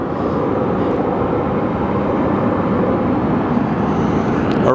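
A jet airliner arriving at Phoenix Sky Harbor Airport gives a steady, loud engine roar with a broad rumbling wash, sustained without change, heard from a moderate distance with no voices.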